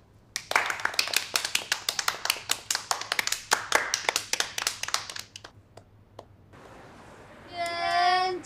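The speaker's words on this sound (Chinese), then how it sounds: "此处掌声呢？" Rapid, steady hand clapping from a small group fills about five seconds, loud and close, then fades into quiet, followed by a brief high tonal sound at the end.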